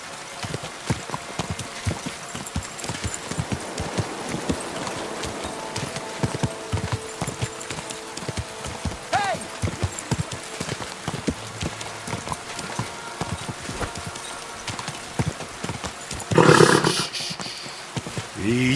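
Rhythmic clip-clop of horse hooves trotting in the video game Kingdom Come: Deliverance 2, close and steady throughout, with a brief louder burst near the end.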